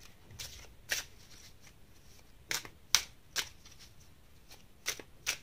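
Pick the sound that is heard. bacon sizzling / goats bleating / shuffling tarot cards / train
shuffling tarot cards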